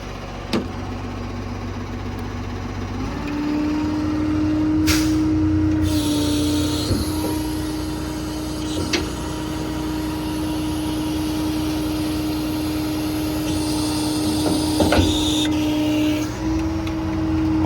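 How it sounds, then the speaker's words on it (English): A compressor on a 2013 Ford F750 IMT service truck with a Cummins engine runs as a steady mechanical hum and drone throughout, with a sustained tonal whine and occasional clanks, fairly close and continuous. "Then to turn the compressor off, you just come right over here. The compressor will turn off."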